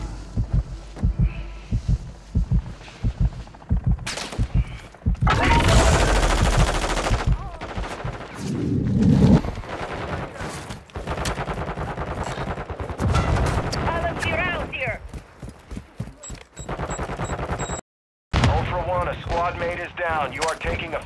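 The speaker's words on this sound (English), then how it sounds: "You are taking effective fire." Gunfire in a Call of Duty DMZ match arrives in loud bursts and rapid volleys, mixed with thumping game effects and heavy talking.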